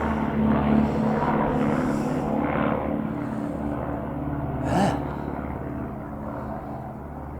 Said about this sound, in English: You don't see many of them flying into Liverpool, twin otter.